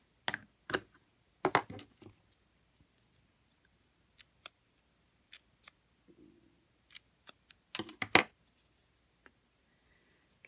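Scissors banner-cut the end of a stamped white cardstock strip in a few sharp, separate snips, with quiet pauses between short clusters of cuts, close and fairly crisp.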